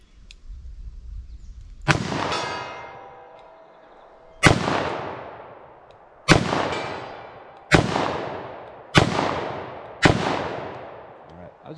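Six sharp .357 Magnum pistol shots fired outdoors at an irregular quick pace, each a loud crack with a decaying echo, louder than the faint sound before the first shot.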